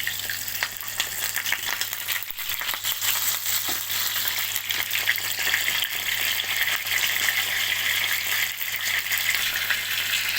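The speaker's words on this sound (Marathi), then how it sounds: "मागीर ऑयल घालता. फिश घायला आतां हें फ्राय करपाक." Fish fries in hot oil in a frying pan, a loud, continuous close-up sizzle with crackling spatter throughout and no let-up.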